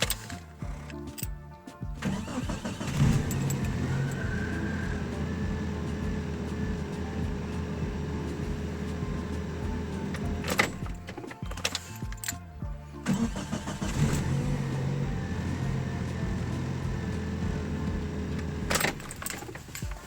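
A Volga car engine, just back running after a starter repair, cranks and catches, then idles steadily. It cuts off and is restarted partway through, with sharp clunks marking each stop and start.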